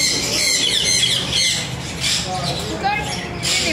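Macaw parrots squawk in a city setting, harsh repeated calls rising over a busy, noisy background with chirps scattered throughout.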